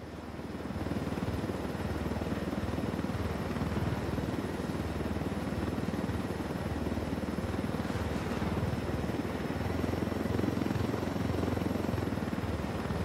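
A helicopter in the video game Tom Clancy's Ghost Recon Wildlands drones steadily throughout, its dense rotor and engine rumble holding an even loudness from start to finish with no voices.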